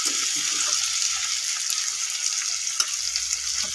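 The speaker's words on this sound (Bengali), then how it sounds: "তারপরে ভালো করে কষিয়ে নাও।" Food being sautéed in a pan on the stove, a steady loud sizzle and hiss with faint stirring scrapes throughout, close and continuous.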